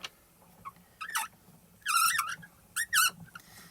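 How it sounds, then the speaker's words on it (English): A Spellbinders Platinum die-cutting machine is cranked through slowly and gives several high, close squeaks in short bursts as it rolls, with no talking. "Never mind the squeak in my machine."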